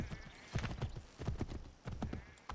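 Horse hooves clip-clopping in Assassin's Creed 3, a brisk rhythmic run of close hoofbeats in uneven clusters over faint background ambience.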